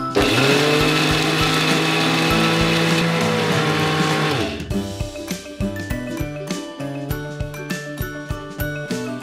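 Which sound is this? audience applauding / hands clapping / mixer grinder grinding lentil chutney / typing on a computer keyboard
mixer grinder grinding lentil chutney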